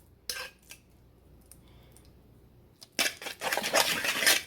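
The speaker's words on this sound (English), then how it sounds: "Take a fork and stir it till it's smooth, so it'll spread like a spreadable jam" A fork stirs strawberry preserves in a jar or bowl, with sharp close clinks at first, a quiet pause, then a busy run of scraping and tapping metal against glass.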